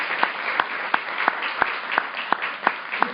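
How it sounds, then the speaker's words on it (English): Applause for everybody after a game round: a steady bed of clapping with sharp, evenly spaced loud claps standing out about three times a second, close and continuous. "A hand of applause for everybody,"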